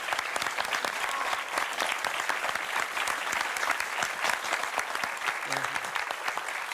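An audience applauds a Corsican music group after their introduction, a continuous, fairly dense clapping that stays even in level throughout, with a brief voice surfacing faintly near the end.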